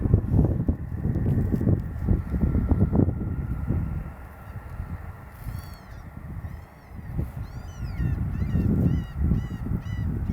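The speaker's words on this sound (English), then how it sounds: "even the seagulls are excited of this plane come to land. Squawking of the way." Seagulls calling around Inverness Airport as a plane comes in to land, a series of short squawks scattered over the second half, moderately close, over steady low wind and background rumble.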